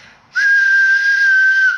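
A steady whistle blown into the microphone of a 1976 Hy-Gain 8 CB radio during a power test, starting abruptly after a brief quiet moment and holding one loud, even tone to the end.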